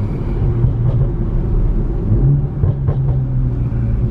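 A BMW M340i engine running while waiting in line at a gas station, a deep, steady low rumble close by with slight swells, and no one talking.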